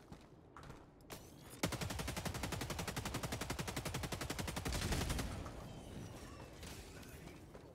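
Sustained automatic gunfire from a Helldivers 2 firefight, a rapid, evenly spaced burst of shots running for several seconds, loud and close, with a few single shots before it and a dense crackle of fire near the end.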